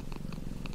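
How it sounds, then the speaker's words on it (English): A domestic cat purrs up close, a steady low rumbling drone with a soft pulsing rhythm and no other sounds around it. "One of our favorite ponderings is the act of purring."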